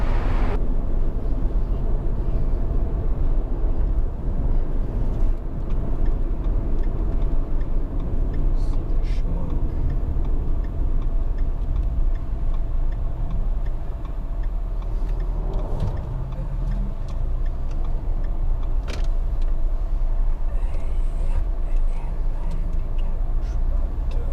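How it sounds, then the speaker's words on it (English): Traffic on a busy highway near Sebastopol, California, a constant loud roar of passing cars with occasional sharper clatters, heard from close by while people talk intermittently. "It's a very busy highway here."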